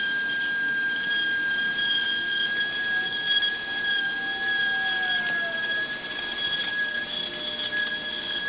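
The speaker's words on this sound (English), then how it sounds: "I've spent about 20 minutes sanding the helmet down with the orbital sander." Continuous high-pitched whine of an orbital sander running steadily on a Vicis Zero 2 football helmet, with a faint gritty buzz of abrasion throughout.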